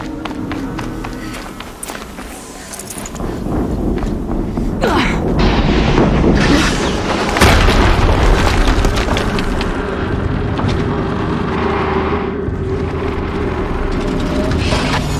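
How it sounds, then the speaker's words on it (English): Loud, dense explosions and rumbling booms from the video game Horizon Zero Dawn, layered with impacts and clatter that build and sustain throughout, with a sharp blast near the middle. "Another explosion."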